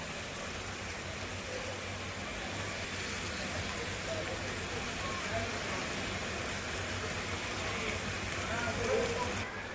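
Rice is added to a hot pan for veg fried rice, giving a faint, steady, hissing sizzle and crackle that runs evenly throughout, with a voice nearby.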